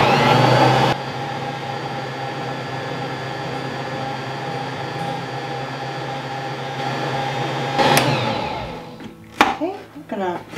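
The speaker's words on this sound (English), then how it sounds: "I'm going to turn on my mixer, and I'm going to let this run for a minute or two with the bread hook" A stand mixer fitted with a bread hook kneads Portuguese sweet bread dough, its motor holding a steady, loud whirring hum for several seconds before it switches off and clattering handling sounds follow.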